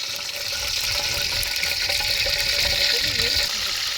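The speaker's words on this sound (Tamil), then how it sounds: "நம்ம சமைக்கிறதுக்குள்ள ஒரே மழையாக இருக்குது" Heavy rain falls steadily on an outdoor cooking spot where fish is being fried, a continuous loud hiss and patter, with voices faintly under it.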